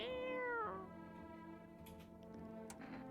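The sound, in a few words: cat meowing in a video game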